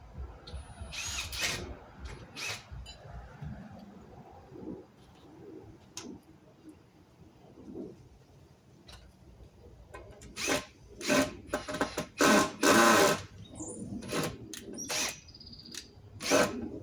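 Power drill driving screws into hard wood, with several short whirring bursts that grow louder and more frequent toward the end, close by, and a pigeon cooing faintly in the background.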